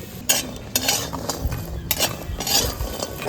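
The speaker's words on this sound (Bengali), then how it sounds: "এইবার আমি বড়িটা ভেজে নিচ্ছি" Bori lentil dumplings fry in hot oil in a pan as a steady sizzle, broken by several sharp scraping and clinking strokes of a utensil stirring against the metal. No voices.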